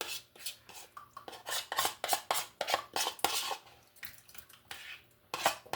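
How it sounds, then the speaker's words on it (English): Cornmeal poured into a pot of boiling water for porridge and stirred with a wooden spoon: repeated close scraping and clattering strokes in an uneven rhythm, loud and busy, with no talk. "Now I'm adding in the cornmeal"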